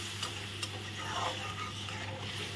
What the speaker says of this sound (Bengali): আলু দিয়ে ভালো করে নেড়ে চেড়ে নেব।